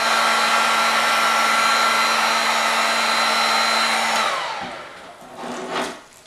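Heat gun blowing hot air onto gloss paint on a wooden door frame to strip it, a loud steady whirring hum with a fixed tone that cuts off after about four seconds, followed by faint scraping and handling noises.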